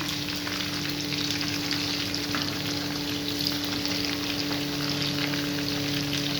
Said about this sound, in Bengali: দেখুন বন্ধুরা এই যে একটু কিন্তু সময় নিয়ে ভাজতে হবে আঁচটাকে কমিয়ে বাড়িয়ে